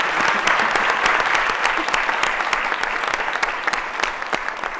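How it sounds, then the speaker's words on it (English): Steady, full audience applause for a business symposium panel, dense even clapping from a sizable crowd throughout, with no talk over it. "if you could give a nice round of applause for our panel"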